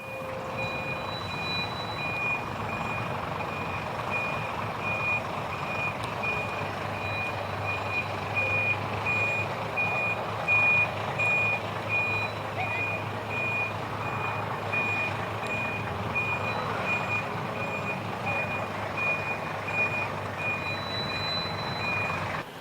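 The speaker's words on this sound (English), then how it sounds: "1970 Bristol RELL, which features a two-door Eastern Coachworks body, is manoeuvred into position" A 1970 Bristol RELL single-deck bus with a two-door Eastern Coachworks body manoeuvres at a bus festival, its engine a steady low rumble while a reversing beeper pulses repeatedly and crowd noise murmurs behind.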